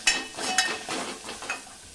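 A spoon stirs salt and turmeric through translucent onions in a hot pan, a few quick scraping strokes over a soft sizzle, close and brief with no voices.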